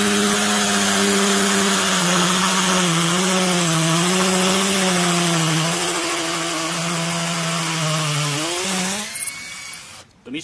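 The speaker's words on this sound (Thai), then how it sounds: "ตัวนี้สามารถเจาะปูนได้นะครับหัวกระแทกได้นะครับ" An 84V MEKATA cordless hammer drill bores into concrete with a loud, continuous whining grind that wavers in pitch, then stops abruptly near the end.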